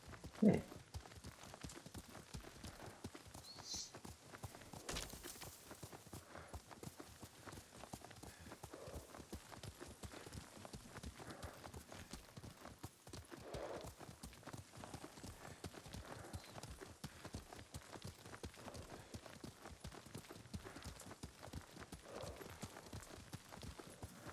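Horse hooves clip-clop steadily at a riding pace in the video game Ghost of Tsushima, faint and continuous over quiet ambience.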